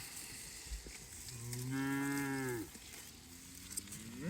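A Nguni cow lets out one long, clear moo at moderate distance, rising and then falling away, with quiet farm ambience around it.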